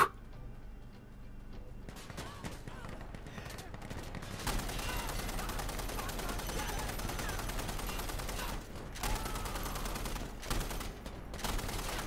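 Gunfire in Insurgency Sandstorm: a heavy, dense fusillade of weapon fire runs almost continuously for about twelve seconds, with brief dips in intensity before the barrage resumes.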